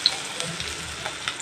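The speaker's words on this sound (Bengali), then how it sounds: "পেঁয়াজটা একটু লাল লাল করে ভেজে নেব" Chopped onion frying in oil for a pointed gourd dish, a steady soft sizzle with faint crackles, heard close and alone.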